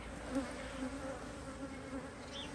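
A continuous low buzz of honey bees hums from an open hive during an early spring inspection, steady and fairly quiet, with no voices.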